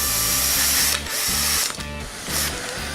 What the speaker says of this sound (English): But I gotta get holes in this can somehow, so I'm gonna try to drill.